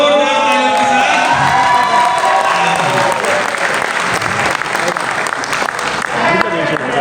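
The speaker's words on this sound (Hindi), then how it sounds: "तो एक बार जोरदार तालियों के साथ" Audience at a company business meeting breaks into loud, sustained applause with cheering and whoops, a dense crowd roar that holds steady throughout.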